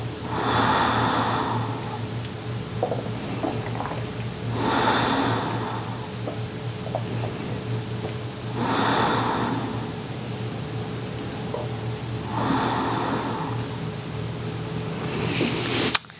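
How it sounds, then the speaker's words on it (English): Long, slow breaths during a yoga stretch for back health sound close and audible, with four drawn-out inhale and exhale cycles evenly spaced over a faint steady hum. "3 to 5 long, slow breaths"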